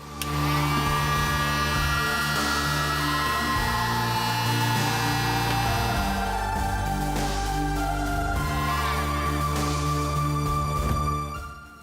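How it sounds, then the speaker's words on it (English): A heat gun warming the factory glue on a 2014+ GMC Sierra Permaseal headlight, running as a steady loud whirring blower hum with tonal harmonics for about eleven seconds, then cutting off. "So we'll take a heat gun and heat it for 5 minutes."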